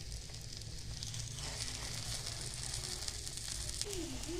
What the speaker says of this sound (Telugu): ఇలా ఆయిల్ వేడయ్యాక ఎగ్ మిశ్రమం అంతా ప్యాన్ మీద ఇలా వేసుకుంటున్నానండి.